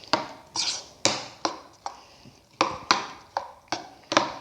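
Banana and watermelon are mixed in a bowl, with about ten sharp, close clinks of utensil against bowl in an uneven but steady rhythm, quiet between strokes.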